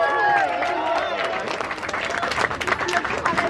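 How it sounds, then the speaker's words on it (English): A crowd claps and cheers at the Luna Park Melbourne hot dog eating contest, a burst of scattered applause and excited voices mixed with a talking announcer over a busy outdoor event. "Let's cheer them on."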